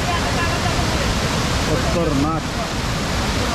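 Rushing water pours through Solanpada Dam in Karjat during monsoon rain, a loud, continuous roar close by, with someone briefly speaking over it.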